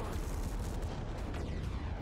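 A mech in MechWarrior 5 fires its heavy weapons, likely AC-20 autocannons, in a dense, booming rumble of blasts that roars steadily with no talking over it.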